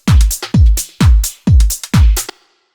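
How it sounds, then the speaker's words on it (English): Hi-hat loops in Ableton, an open hat with a shaker-like sizzle and a tight closed hat, riding over a punchy kick in a steady house groove; five even beats, loud and alone. "We've got some hats, like an open hat, which is a bit of a shaker kind of thing."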